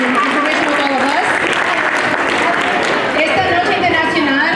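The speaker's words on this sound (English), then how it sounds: "Give yourselves a round of applause for sharing your cultures and information with all of us." Audience applause at a school international arts celebration, dense and steady, filling the space with continuous clapping at close range throughout.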